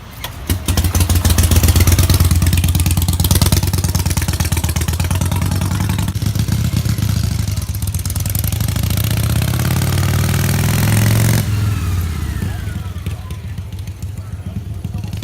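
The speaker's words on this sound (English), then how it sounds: "Always motorcycles at this cafe, and this is an Indian, an old classic Indian." An old classic Indian motorcycle engine idles nearby with a steady, loping rumble and mechanical clatter, holding for most of the stretch before dropping off near the end.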